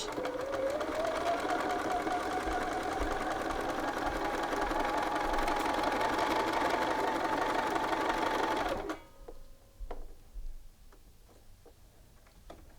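A sewing machine stitches a shirt yoke seam in one long steady whirring run, loud and close, then stops abruptly, followed by a few light clicks and handling sounds.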